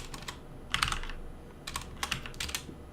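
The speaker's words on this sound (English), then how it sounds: "We're going to type in npm init," Keys clatter on a computer keyboard as a short terminal command is typed, with quick clustered bursts of crisp clicks separated by brief gaps in a quiet room.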